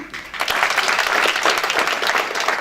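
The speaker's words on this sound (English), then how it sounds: "clap for Group 16, online publishing" An expo audience clapping for a business idea group, a brief dense burst of applause from many hands, loud and close, holding steady throughout.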